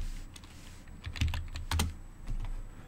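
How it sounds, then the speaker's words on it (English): Keys clack on a computer keyboard in quick uneven bursts, close and fairly quiet over a faint steady background hum, with no talking. "So we type it again"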